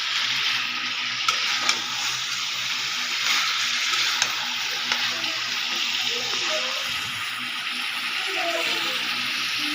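Chicken pieces frying in a pan with salt, stirred steadily, giving a continuous broad sizzle with faint scraping and clinks from the stirring utensil, close and even throughout.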